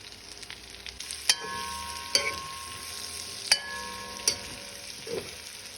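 Tripe stew cooks in a pot over low heat, giving a quiet, steady bubbling hiss broken by four sharp metallic clinks from a utensil at irregular intervals.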